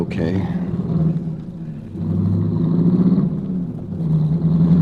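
Car engine rumbles and revs as a vehicle pulls away in a 1949 radio detective drama, a steady low drone running the whole time beneath voices talking over it.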